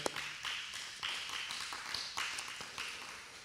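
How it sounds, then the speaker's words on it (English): A small Torah study group claps together, a scattered patter of hands that comes in several soft waves over a few seconds, fairly faint and without any talking. "A few people wanted to clap, so let's go ahead and clap for that."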